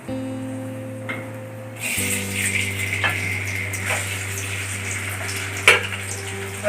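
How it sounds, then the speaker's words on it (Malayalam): Chopped ginger and garlic dropped into hot oil for kadai chicken, a quiet start giving way to a steady close sizzle with a low hum underneath and a sharp clatter near the end. "ഓയിലൊന്ന് ചൂടായി കഴിഞ്ഞ് നമ്മുടെ ഇഞ്ചി വെളുത്തുള്ളി അരിഞ്ഞ് വെച്ചിട്ടില്ലേ അത് ഇട്ട് കൊടുക്കാം"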